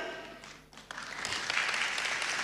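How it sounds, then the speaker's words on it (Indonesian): Church congregation applauding during a sermon, a soft wash of many hands that swells from near silence into steady, distant-sounding clapping. "Saudara sudah tepuk tangan toh"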